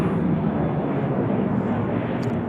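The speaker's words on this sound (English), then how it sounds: "So we've got a plane going out here." A plane departs Dallas Love Field airport with a steady, broadband roar that holds at constant loudness throughout, heard from a distance with no voices.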